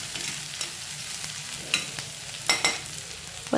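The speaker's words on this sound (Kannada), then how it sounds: "ಹಸಿ ವಾಸನೆ ಹೋಗೋ ತನಕ ಚೆನ್ನಾಗಿ ಫ್ರೈ ಮಾಡಿಕೊಂಡು ಎಣ್ಣೆನಲ್ಲಿ ಸ್ವಲ್ಪ ಕುದಿಬೇಕು ಈರುಳ್ಳಿ" Onion frying in oil in a pan, a steady close sizzle with a few soft scraping stirs and light clinks scattered through, no talking.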